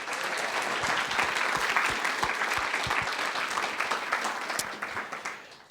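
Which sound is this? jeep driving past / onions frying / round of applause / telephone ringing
round of applause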